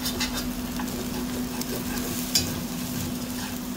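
Onions frying with chorizo in a pan, a steady close sizzle under light stirring, with a couple of brief scrapes and clicks near the middle and end.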